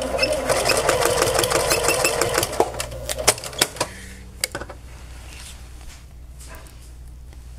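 A sewing machine runs a short forward-and-reverse backstitch of about three stitches on the hood seam allowances of a New York hoodie, a steady close whir for a few seconds that then breaks into scattered clicks and handling noises.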